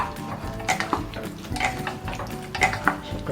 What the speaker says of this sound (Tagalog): Mix on the syrup.